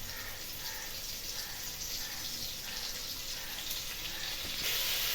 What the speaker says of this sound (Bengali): অল্প কটা চিংড়ি মাছ আমি তেলের মধ্যে দিয়ে দিচ্ছি